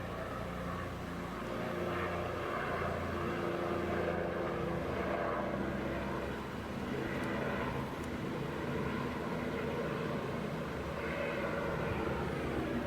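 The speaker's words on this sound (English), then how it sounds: "Yep, it's a helicopter." A helicopter circles in the sky overhead, its engine and rotor making a steady, continuous drone that stays at a fairly even level for several seconds with no voices.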